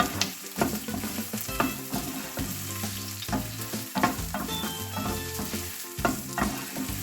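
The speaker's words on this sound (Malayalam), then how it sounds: "ബീൻസ് അങ്ങ് ഇട്ട് കൊടുക്കാം നന്നായിട്ടൊന്ന് ഇളക്കി കൊടുക്കാം" Green beans tipped onto sautéed onions in a pan for bread upma, sizzling steadily with repeated scraping stirs and utensil knocks throughout, close and fairly loud, no talking.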